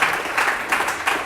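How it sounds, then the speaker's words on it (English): A small audience gives event hosts a quick round of applause in an office space, brief pulsing bursts of clapping that swell and fade, close by. "Quick round of applause for them."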